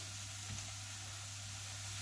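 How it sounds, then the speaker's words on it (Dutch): Chopped onion gently frying in a pan with a soft, steady sizzle for chili con carne, quiet and continuous with a low hum beneath it. "En die gaan we aanfruiten."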